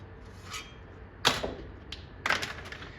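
Hand tools cutting 16 gauge sheet metal for an arcade PCB bracket, a few short sharp metallic snips and crunches in irregular bursts, close with quiet pauses between.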